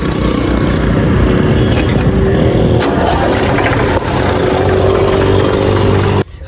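A tractor engine runs loud and close while driving on a farm road, a dense steady rumble and clatter that holds throughout before cutting off sharply at the end.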